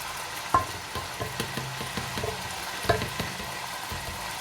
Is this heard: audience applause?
no